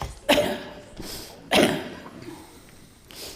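Two sharp coughs, each loud and close, with a fainter one at the end.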